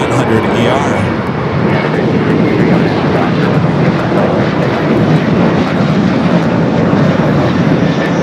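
United 737-900ER jet bound for Chicago at LAX, giving a loud, continuous engine roar that stays even and close for the whole stretch, with a voice speaking over it.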